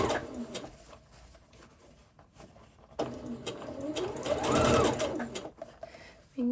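A sewing machine stitches dress lining right at the fabric edge, its motor whirring in bursts of rapid needle chatter that stop and start, with a steady run rising in pitch near the end.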